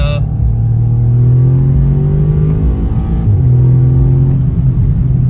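Audi S3 MK7 hatchback with Haldex all-wheel drive out on a test drive, a loud, close engine drone rising in pitch as it pulls, dipping at a gear change, then climbing again, with someone talking over it.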